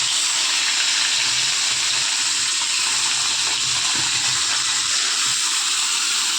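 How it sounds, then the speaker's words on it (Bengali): Fish frying in a pan produces a loud, steady, close hiss of hot oil with a watery, rushing texture and faint scraping, continuous throughout. "মাছটাকে ভালো করে ভেজে নিই"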